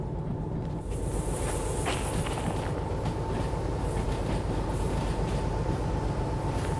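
A train rolls along in the Derail Valley simulator game, giving a continuous low rumble with rhythmic clickety-clack of wheels on rail joints and a steady mechanical drone, loud and unbroken, with no voices.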